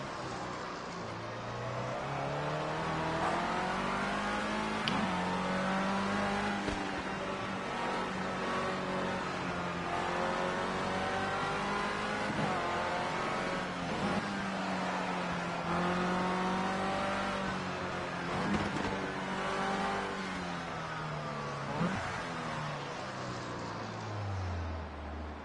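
Formula C race car engine in Project Cars 2 droning steadily through a cooldown lap, its pitch rising and falling with gear changes, continuous and loud with no talk.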